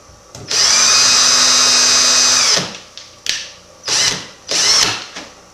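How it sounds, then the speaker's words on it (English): A power drill runs in one long high whine while drilling a hole, then fires in a few short bursts with brief pauses and clicks between them. "and then you drill the second hole"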